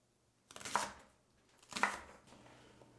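Rinsed leeks rough-chopped with a knife on a board, with two separate bursts of crunchy chopping about a second apart. It is fairly quiet, and no one speaks.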